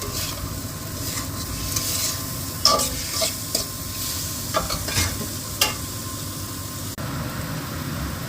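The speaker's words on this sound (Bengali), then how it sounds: "এই পর্যায়ে আমি দিয়ে দিব ক্যাপসিকামগুলো" Capsicum and soya chunks stir-fried in a pan for soya chilli, with a steady sizzle and scraping stir strokes at an irregular rhythm, close and fairly loud, no talk.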